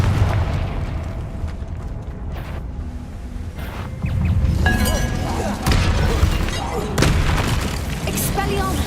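Confringo fire-spell blasts in the Hogwarts Legacy PC game, a dense, loud run of booming bursts and crackling debris over a steady roar, with a voice speaking at times.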